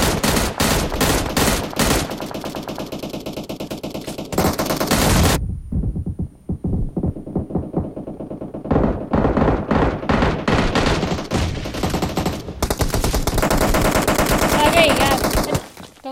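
Rapid automatic gunfire in the PUBG shooter game, loud and close, in long bursts separated by a short lull of scattered single shots, then sustained firing again.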